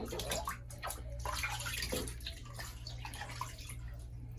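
Water runs steadily from a tap while a Pomeranian puppy is bathed at home, a continuous splashing gush close by with a low hum beneath.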